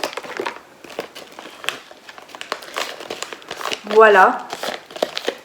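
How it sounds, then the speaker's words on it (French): A paper envelope holding test tubes is folded and sealed, giving a brief, close crinkling and crumpling burst amid handling rustles while a person speaks a word. "On va mettre dans l'enveloppe et il faut refermer l'enveloppe bien évidemment."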